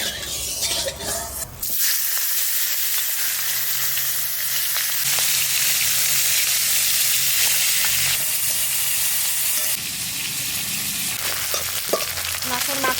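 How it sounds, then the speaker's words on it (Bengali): A hilsa fish head rubbed with salt and turmeric fries in hot oil, building after a short start into a loud, dense, continuous hiss and sizzle that holds steady, close and alone. "মাছের মাথাটা ভাজা করব, তেল দিচ্ছি।"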